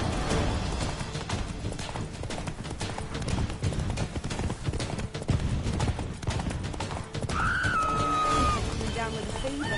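A galloping horse, Roach from the game Witcher 3, pounds out a fast run of hoofbeats under dense game sound, with a brief neigh toward the end.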